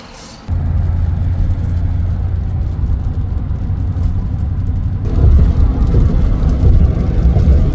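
A car drives along a road in Kentucky, heard from inside as a loud, steady low engine and road rumble that swells slightly partway through.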